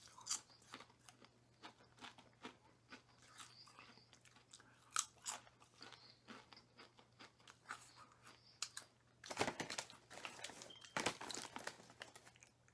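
Zapp's mesquite barbecue potato chips are chewed close up in a series of sharp, irregular crunches, growing denser and louder near the end, with no talk.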